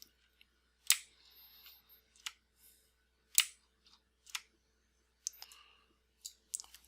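Computer mouse clicking while retouching in Photoshop, sharp isolated clicks at irregular intervals over a quiet room hum, close and distinct, with soft rustles between them.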